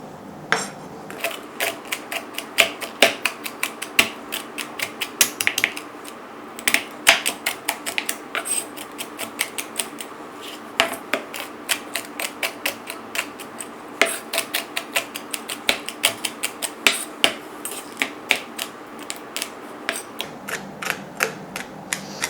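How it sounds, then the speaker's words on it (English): Knife chopping hazelnuts on a board for praline paste, a steady run of quick, sharp taps at close range with irregular rhythm and occasional louder strikes, without any talking. "You like it finer, so I just go on chopping them as fine as possible."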